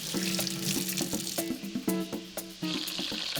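A running kitchen tap pours steadily while hands are washed beneath it, a close, continuous rush of water broken by uneven splashes and brief dips as the hands move through the stream.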